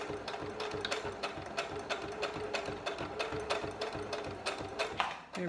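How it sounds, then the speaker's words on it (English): A sewing machine back stitching the end of a fabric face mask, running steadily with a fast, even mechanical chatter of needle strokes close up, then briefly slowing at the end. "when we get to the end, I'm going to just do some back stitching"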